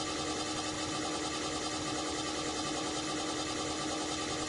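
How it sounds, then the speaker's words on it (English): An electric motor jogs forward under control of a Mitsubishi FR-PU07 operation panel, giving a steady, even mechanical whir that holds constant throughout at moderate level, with no speech. "The motor will jog forward."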